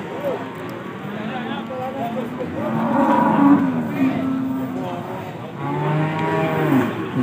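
Cattle moo loudly at a busy livestock market, with several long, close calls rising and falling over the clip while people talk nearby.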